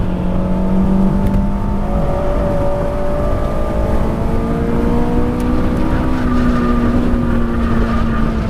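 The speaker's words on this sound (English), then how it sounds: "Oh, those front tires are howling" A Honda Civic Si on a race track, its front tires howling through a corner over a steady engine drone with a slowly rising whine, loud and close, with no talking.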